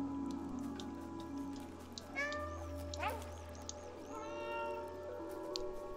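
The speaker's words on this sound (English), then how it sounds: "I can meow." A cat meows several times in the video game Stray, with a few clear separate calls standing out over a constant patter of rain and a low background hum.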